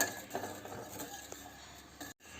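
Custard powder being stirred into milk in a pan, soft close scraping and light utensil taps against the pan over about two seconds, fairly quiet.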